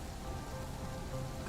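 Steady rain falling in an audio drama about a gray, rain-soaked planet, a continuous soft patter and hiss filling the space without any voices.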